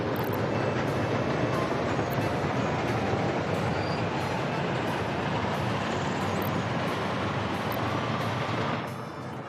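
A coal train in the Soviet-era management game Workers & Resources: Soviet Republic rolls along with a loud, steady rumble and faint rhythmic wheel clatter, heard continuously and alone.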